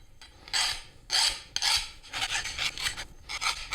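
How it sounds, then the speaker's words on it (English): Repeated rasping strokes of a fine file scraping across the cut edges of metal plates for a Stirling engine, each stroke a harsh gritty swish in a steady back-and-forth rhythm, up close. "I'll just clean up the cut edges with a really fine file"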